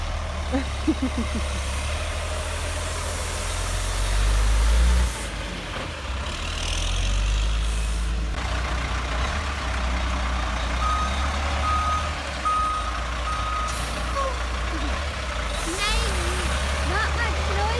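A large truck engine rumbles steadily nearby as it maneuvers, with repeated reversing beeps and a hiss of air brakes.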